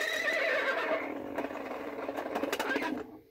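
A tinny, electronic horse neigh plays from a small toy speaker, followed by a few rattling clicks before cutting off.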